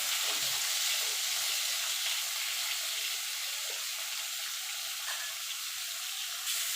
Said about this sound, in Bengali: হালকা করে একটুখানি নাড়াচাড়াও দিয়ে নেব।